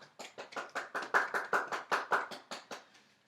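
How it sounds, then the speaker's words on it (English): Audience applause for a guest expert at a broadcast event, heard as a steady run of distinct, fairly close hand claps in an even rhythm, moderately loud with no talking. "Please give a round of applause for our expert,"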